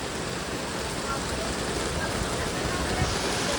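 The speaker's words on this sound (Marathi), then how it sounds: "पावसाळ्यासारखा पाऊस पडते बाहेर" Heavy monsoon rain pours outside in a steady, dense hiss that fills the whole stretch without pause, fairly loud and close.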